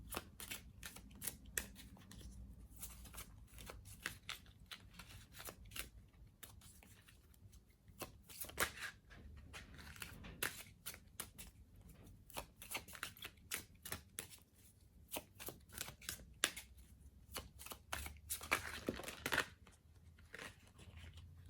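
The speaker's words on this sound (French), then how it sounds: "on va tirer une ou deux cartes complémentaires pour avoir un petit peu plus de détails" Tarot cards shuffled by hand for a zodiac card reading, a long run of rapid crisp riffling and flicking bursts in uneven clusters, close and fairly quiet, without speech.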